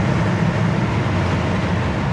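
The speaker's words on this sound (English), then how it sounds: "We're going to downshift to third." A 1960 Ford Starliner's engine and manual transmission run steadily as the car downshifts into third gear, giving a continuous, loud, broadband drone of engine and road noise with no talk.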